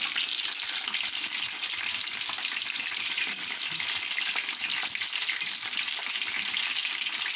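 Breaded scallop cutlets (panné) fry in hot oil, giving a continuous, fairly loud sizzle and crackle that stays even throughout, with no voices.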